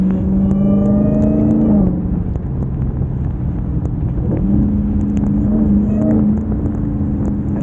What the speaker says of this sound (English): And I hope y'all can hear the supercharger better.